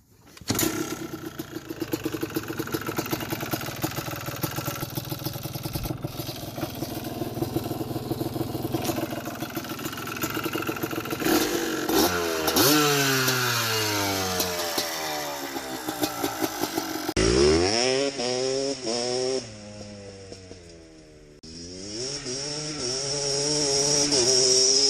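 A Yamaha Blaster 200cc two-stroke ATV engine fitted with a Pro Circuit Platinum exhaust idles with a raspy crackle, then revs up and down repeatedly in loud, sweeping bursts before settling back to idle.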